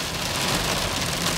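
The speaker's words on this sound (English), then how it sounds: "we just figured out it's hail. That's why it's so fast and loud." Hail falls hard and fast during a thunderstorm, a dense, loud, steady clatter with no pauses and no voices over it.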